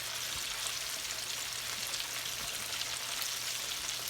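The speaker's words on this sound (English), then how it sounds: "I got them here just in the fryer here, y'all" Pork finger ribs bubble and crackle steadily in a deep fryer, a dense, even hiss of hot oil that keeps up without a break, close and moderately loud, with no voices.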